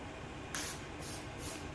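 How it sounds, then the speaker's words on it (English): Volume and matte texture hair spray sprayed from a can in a few quick hissing bursts: one sharp spritz, then two softer sprays, close and faint. "put a little bit of this volume and matte texture spray"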